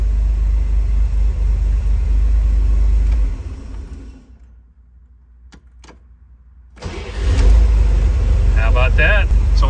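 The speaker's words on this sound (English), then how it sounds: "I'm gonna stop and start this car from inside here, hopefully" A 1963 Chevrolet Corvair's engine rumbles at idle, cuts out into near silence for a few seconds, then starts again with a burst and settles back to a steady low running drone, heard from inside the car.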